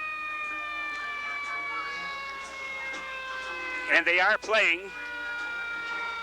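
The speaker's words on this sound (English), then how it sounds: "the siren of the Niles fire apparatus approaching" A Niles fire apparatus siren wails at a Fourth of July parade in Niles, Illinois, rising and sweeping loudly over steady tonal band music as someone speaks over it.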